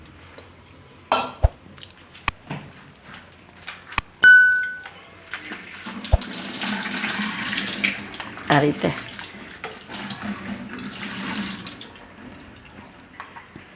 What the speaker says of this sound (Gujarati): તો આને આપણે થોડુંક પાણી નાખીને પહેલાં ધોઈ નાખશું.